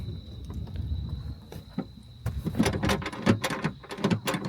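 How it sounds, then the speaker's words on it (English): Rear door of a high-mileage Lexus GX470 opening with a run of clicks and latch rattles, a loose piece knocking, followed by sharp mechanical clunks over a faint steady whine, close by. "Opening up the fifth door here, or the trunk, whatever you want to call it."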